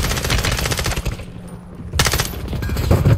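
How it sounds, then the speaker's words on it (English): Rapid automatic gunfire in Call of Duty Warzone, loud continuous bursts with a brief pause midway before the shooting resumes just as intensely. "He's getting shot by somebody else."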